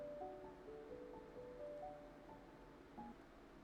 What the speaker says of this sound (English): it's just the waves. That's so nice. It's just, like, beach waves.